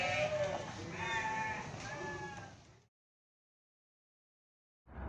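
Sheep on an eco-friendly farm in Sragen, Central Java, bleating in several overlapping wavering calls for under three seconds, close and clear, followed by sudden silence and a brief return of sound at the end.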